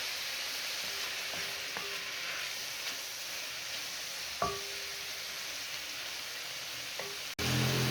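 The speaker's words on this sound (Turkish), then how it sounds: "Baharatlarımı da ekleyip hepsini karıştırıyorum." A steady hiss of chicken frying in butter with a little chicken stock, with a few utensil taps and scrapes as spices are stirred in, then a sharp knock at the end.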